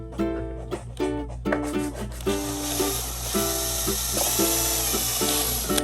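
A drill bores into wood in short, stop-start bursts, rising in pitch as it bites, then runs longer with a grinding, rough tone, close up.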